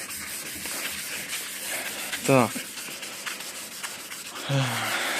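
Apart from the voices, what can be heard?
sanding a painted surface before refinishing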